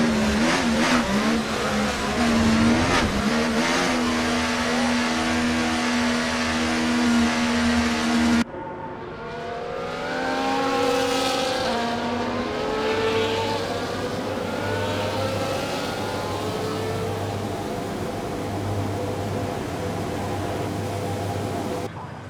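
Formula 1 cars idle and rev on the starting grid at Silverstone before the British Grand Prix in the F1 24 racing game, a loud, continuous engine drone with rising and falling rev tones throughout.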